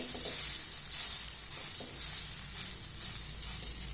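Vegetable cheela batter hisses steadily on a pan over low to medium flame, a close, even sizzle with soft patting touches as it is spread.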